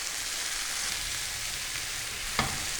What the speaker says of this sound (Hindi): वेजिटेबल्स को हमने यहाँ पर 2 मिनट तक सौते कर लेना है